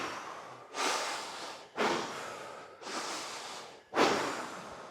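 Hard, forceful breathing during a back-mobility stretching exercise: four loud, close breath bursts, each sharp at the start and fading away, spaced about a second apart with no talk.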